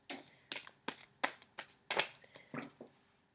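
A deck of tarot cards is shuffled up close, about eight quick riffling bursts in an uneven rhythm, soft and crisp.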